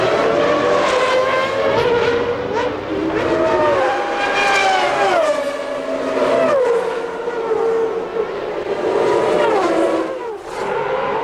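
A 1993 Formula One McLaren engine, driven by Senna, screams at high revs and repeatedly stutters and drops out before picking up again, loud and close with rising and falling pitch.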